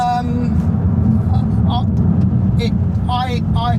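A Maserati car driving, its steady engine and road noise loud and continuous beneath people talking inside the cabin.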